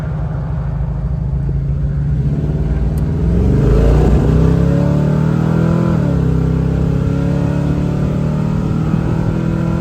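A 1971 Chevrolet Chevelle SS Convertible engine roars loudly as it accelerates through the gears, with rising revs and a gear change, heard from inside or close by.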